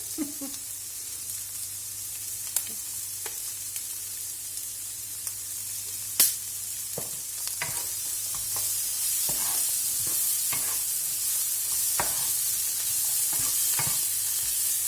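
Chickpeas sizzle steadily in a hot pan with garlic powder, a continuous bright frying hiss with occasional stirring clicks and scrapes, close and loud, no talking.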